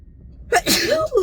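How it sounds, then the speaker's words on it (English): A single sharp sneeze, close and loud, rising after a moment of near silence. "I feel like I'm going to sneeze"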